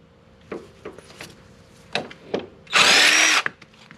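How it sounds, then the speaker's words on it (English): Power tool driving out a bolt on a Honda Shadow Phantom motorcycle during crash bar fitting, a loud close burst of whirring after several light metallic clicks and taps. "We'll go ahead and take this top bolt out,"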